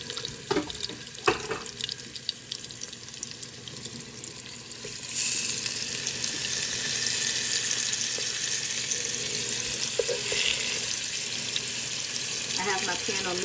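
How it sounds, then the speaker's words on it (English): Beef ribs laid fat side down in a pan: a few quiet clicks and handling knocks at first, then a sudden, steady sizzling hiss that stays loud and even to the end. "we're just going to take our beef ribs, fat side down so that fat can render"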